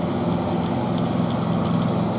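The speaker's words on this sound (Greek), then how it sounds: "Το μηχανάκι, το κοπτικό κλαδεύει," A motorized grass trimmer cuts grass during public works in Farsala, Greece, in January, giving a steady, close, unbroken engine drone with no talking.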